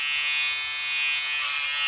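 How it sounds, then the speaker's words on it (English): A fabric shaver buzzes steadily and close while trimming a Honda Civic Type R FN2 car seat, a high whirring hum that keeps going, with no talk. "It's seat shaving time."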